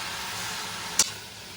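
Crushed garlic sizzles in hot oil as a tempering for potato greens, a steady broad frying hiss throughout with one brief sharper crackle near the middle, no voices.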